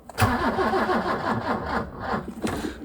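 The starter motor of a BMW E30 cranks the engine in a steady rhythmic whirring churn without catching, loud and close, with no speech over it.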